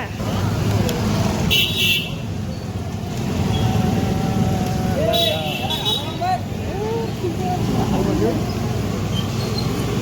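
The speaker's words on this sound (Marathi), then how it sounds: "अरे पण इकडे ट्रॅफिक जाम असते" Continuous traffic rumbles close by on narrow town streets in Mahad, Konkan, with brief horn toots and voices talking over the steady vehicle noise.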